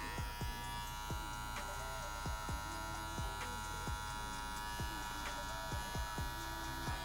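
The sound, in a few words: hair clippers cutting a graduation line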